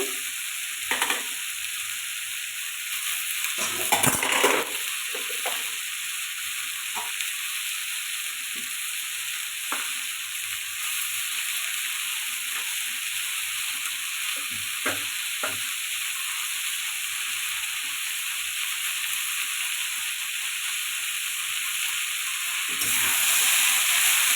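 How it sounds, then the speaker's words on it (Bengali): Bethua greens stir-fried in a pan with green chilli, ginger and turmeric, giving a steady close sizzle and hiss broken by scraping stirs of a spatula, with a louder burst of frying near the end. "একটু নেড়ে চেড়ে নিয়েছি এবার ঢেকে দিব"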